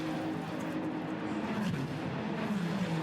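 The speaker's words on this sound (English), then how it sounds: "So the cars look and sound absolutely awesome within the tight confines of this street circuit here in Las Vegas." Ferrari Challenge race cars lap the tight Las Vegas street circuit, engines droning loudly and steadily with a pitch sweep as a car passes close by.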